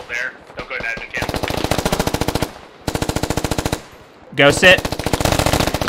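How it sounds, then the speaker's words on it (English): Automatic gunfire in the military shooter game Squad, rapid bursts of rattling shots that stop and restart, loud and close, with a voice speaking briefly between them. "You gotta spread your shots out a bit more."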